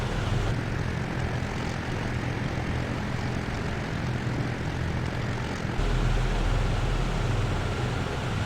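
A P-38J Lightning's engines hold at 1600 RPM in a Prepar3D simulation of a WWII flight across the Pacific, making a loud, steady propeller drone with one slight rise in level partway through and no talking.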